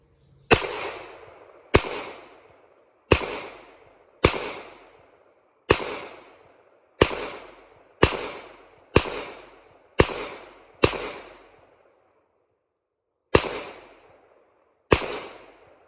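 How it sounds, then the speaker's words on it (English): A Walther PPQ Q5 Match 9mm pistol fires about a dozen sharp, loud shots on a range, spaced roughly a second apart with one longer pause, each crack followed by a short decaying echo. "We're going to come up and acquire the target, and we're going to try to put 15 shots on target."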